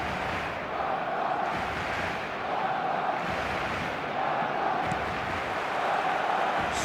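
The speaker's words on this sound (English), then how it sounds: "The stadium is full of noise and energy." Steady, dense roar of a full stadium crowd in a football video game at a Barcelona match, with rolling swells of cheering and chanting over about seven seconds, no clear speech.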